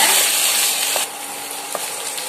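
Shallots fry in hot oil in a pan for a fish curry, a loud, close, hissing sizzle that drops back after the first second and continues more gently with a couple of soft stirring knocks.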